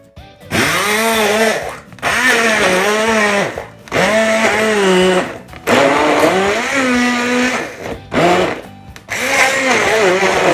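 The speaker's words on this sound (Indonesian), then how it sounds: "Sekarang saatnya kita blender terlebih dahulu." A kitchen blender whirs loudly in several long bursts with brief pauses between them, its motor pitch rising and falling as it runs.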